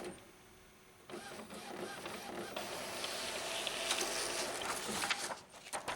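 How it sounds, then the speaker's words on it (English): An Epson WF-2010 inkjet printer whirs and clicks through a nozzle test print, its carriage shuttling steadily with a rising mechanical hum after a quiet start. "The printer prints the nozzle test pattern."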